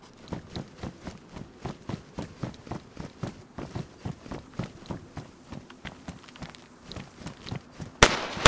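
Gunfire in the video game DayZ set in Chernarus: a long run of regular, evenly spaced sharp cracks, moderately loud and continuous, ending in a louder burst near the close.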